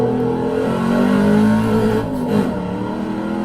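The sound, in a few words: 1995 Ford SVT Cobra R engine at full throttle acceleration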